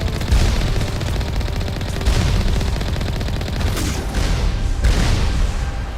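Enemy gunfire in Mass Effect, loud and continuous rapid shooting with booming bursts throughout, dense and close, with no talking over it.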